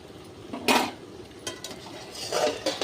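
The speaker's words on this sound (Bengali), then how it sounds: "আমি এখানটা ঢাকা দিয়ে দেব সিদ্ধ করতে থাকুক" A lid set down on a cooking pot of rohu fish head and taro stolons left to boil, giving one sharp metallic clatter followed by a few lighter knocks, close and alone.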